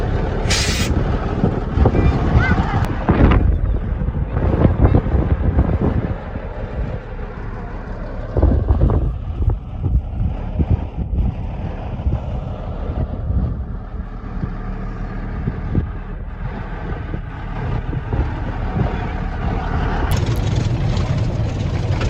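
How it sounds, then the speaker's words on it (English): Water truck pulling up to a cattle water hole on a ranch, its engine rumbling loud and close throughout with a hiss of air brakes near the start and again near the end. "We're in the water truck pulling up here to the water hall called Skinner."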